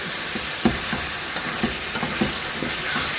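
Potatoes with spices are stirred in a hot pan: a dense, close sizzle with a rhythmic series of spoon scrapes and knocks, about two every second, and no talking.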